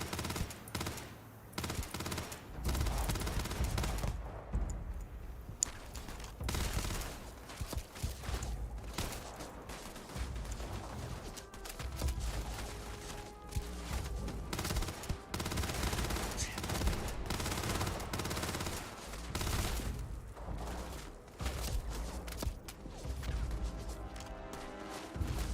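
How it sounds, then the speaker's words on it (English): Rapid bursts of automatic gunfire in the sci-fi video game Starfield, loud and sustained throughout with dense, layered shots and some crashing impacts, while a voice occasionally talks over the action. "Who's shooting over there?"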